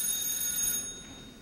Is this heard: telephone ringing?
yes